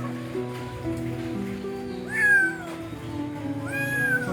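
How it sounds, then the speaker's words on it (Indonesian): A cat meows twice in a home, two rising-then-falling cries spaced about two seconds apart over a low background hum and faint household sounds. "kucingnya naik lagi ibu"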